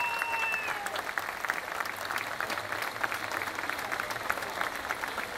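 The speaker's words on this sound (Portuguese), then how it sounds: "Uma salva de palmas ao Paulo Ferraz." Audience applauding producer Paulo Ferraz at a 40th-anniversary music concert, a sustained dense clatter of many hands that keeps an even level throughout, with a brief tone fading in the first second and no voices over it.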